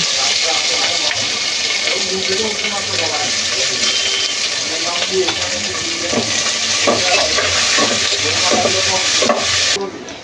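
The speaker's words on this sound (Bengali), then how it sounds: "এবার কেটে রাখা পেঁয়াজ দিয়ে দেব।" Chopped onion hisses in hot oil with whole cinnamon, cardamom and bay leaves for a mutton kosha, a steady loud sizzle throughout with faint stirring and a soft voice in the background.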